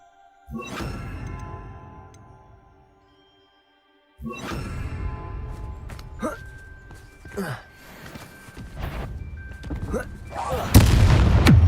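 Bombarda blasting spell detonating in the Hogwarts Legacy video game, heavy booming impacts separated by a short silence, followed by several sharp cracks and a loud final burst, with talk in between.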